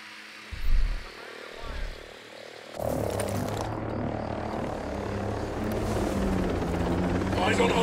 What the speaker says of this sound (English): Hostile chopper on station!